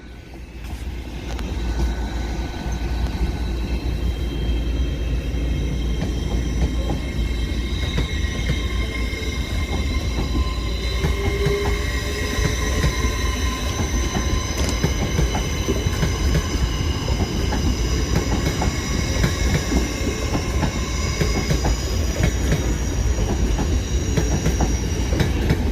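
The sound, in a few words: train 801226 from London King's Cross to Edinburgh passing Newcastle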